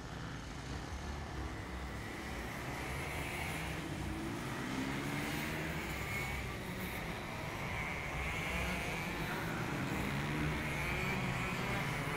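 Racing karts in the veterans class of the Singapore Karting Championship roll out onto the circuit, a steady broadband engine drone that hums on without letup, fairly distant and uniform, with no talk over it.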